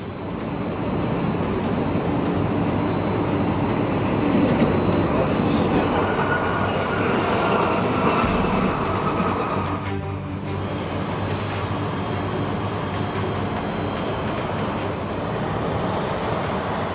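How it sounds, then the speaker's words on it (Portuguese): A FedEx cargo plane makes an emergency landing on a runway, heard as a continuous loud roar of rushing noise and rumble that holds throughout, with a brief sharp change midway. "esse avião de carga da FedEx precisou realizar um pouso de emergência"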